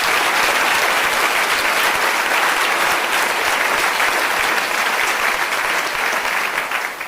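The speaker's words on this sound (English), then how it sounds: "Let's give them a round of applause for that historic achievement." Sustained, loud applause from an audience at a Rockford Public Schools district livestream event, dense and steady clapping throughout, tapering slightly at the end.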